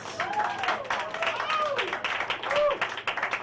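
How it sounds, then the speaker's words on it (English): Comedy roast crowd clapping as the next comedian is called to the stage, a steady patter of applause mixed with voices and shouts throughout. "clap your hands for Mr."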